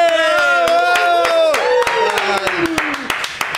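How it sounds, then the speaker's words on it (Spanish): A studio audience on a talk show claps to welcome a guest: sharp, irregular claps of a modest crowd, partly buried beneath a loud, sustained voice calling out over them. "recibimos con un fuerte aplauso a don Edo Caroe."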